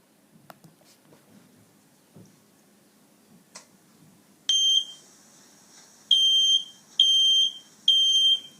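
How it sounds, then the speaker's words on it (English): A home smoke alarm sounds four loud, piercing electronic beeps in an even pattern after scattered faint ticks and taps in a quiet room, with no voices. "the fire alarm installed in your home starts ringing"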